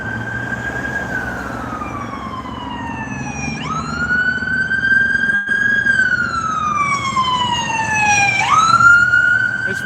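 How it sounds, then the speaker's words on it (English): A private ambulance siren wails loudly and close by on a Las Vegas street, its tone sweeping slowly up and down in long cycles over steady traffic rumble. "Here comes the ambulance."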